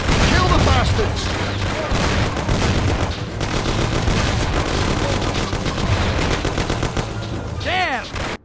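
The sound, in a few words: gunfire in the video game Mafia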